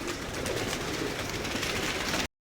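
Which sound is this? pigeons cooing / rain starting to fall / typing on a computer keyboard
pigeons cooing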